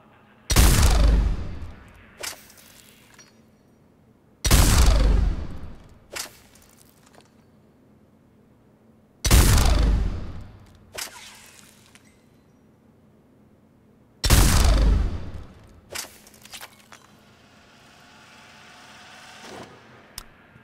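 Four heavy, booming Executioner pistol shots in Mass Effect 3 ring out several seconds apart, each with a long decaying echo and a faint click after it.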